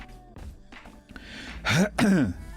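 A person clears their throat twice in quick succession, loud and close to the microphone, after a few quieter breathy sounds.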